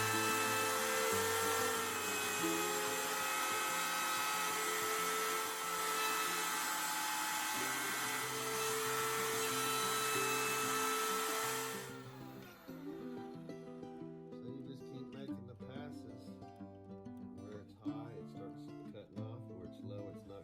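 A WEN band saw or Kobalt table router cuts a hickory slab. A loud, steady, high whine runs for about twelve seconds and then cuts out, leaving quieter, intermittent tool sounds and knocks.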